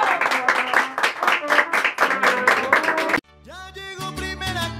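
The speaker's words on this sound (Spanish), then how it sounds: "Un aplauso, bien bonito." A crowd at a Father's Day mariachi performance claps loudly and densely for about three seconds. The clapping stops abruptly and mariachi music with sustained instrumental tones takes over.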